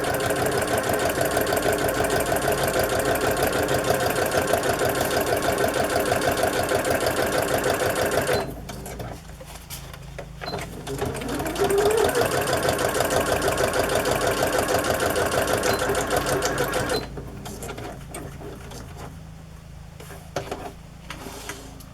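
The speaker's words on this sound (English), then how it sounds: "I'm just going to sew this down one edge" A sewing machine stitches a pocket onto a handmade journal in two long runs of steady, close, whirring stitching, separated by a pause with small handling sounds and no talking.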